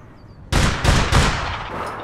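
Gunfire in the video game APB Reloaded: three sharp, loud shots about a third of a second apart, each cutting in abruptly, followed by a lingering decaying tail.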